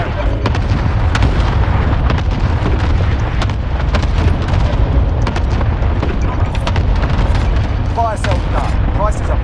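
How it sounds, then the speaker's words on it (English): Cluster strike explosions in a Call of Duty multiplayer match: a dense, continuous barrage of booms and sharp blasts layered over game noise and chatter, with people talking throughout. "Allied cluster strike inbound."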